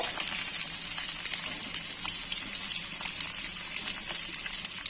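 Cauliflower sizzling in hot oil in a pan as the oil is spread around and the pieces are turned, a steady, dense, close frying hiss with no talking.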